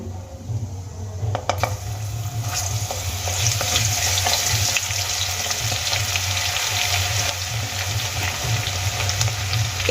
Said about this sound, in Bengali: এবার আমি এর মধ্যে দিয়ে দেবো গ্রেট করে নেওয়া রসুন